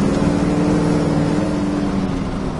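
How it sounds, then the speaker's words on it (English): A 1970 Chevrolet Chevelle SS V8 with two Flowmaster exhausts idling close by, a steady, even low rumble with no one talking. "It's two Flowmasters, and it just has a nice, nice sound to it."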